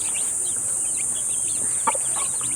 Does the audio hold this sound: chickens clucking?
yes